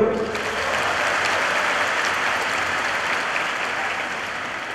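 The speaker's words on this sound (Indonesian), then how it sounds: "Tepuk tangan dulu." Sustained applause from a large university lecture audience for top new students, dense and steady at close range for the whole stretch after a brief faint voice at the start.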